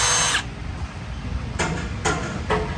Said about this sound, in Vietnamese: Cho cái máy bắn vít Milwaukee M12 ha,